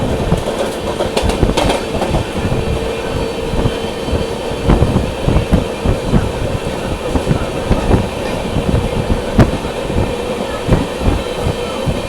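Heard from aboard an Intercity Express climbing through Khandala Ghat between Mumbai and Pune, a loud, steady rumble with a continuous rhythmic clatter of wheels on rail joints and occasional sharper knocks.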